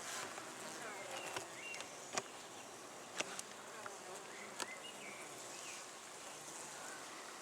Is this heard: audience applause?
no